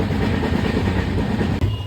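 A moving passenger train rolling along on a trip from Kerala to Goa, a steady close rumble with broadband rail noise filling the whole stretch and no talk over it.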